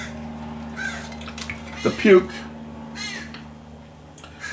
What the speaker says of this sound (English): Shut up, crows, damn it.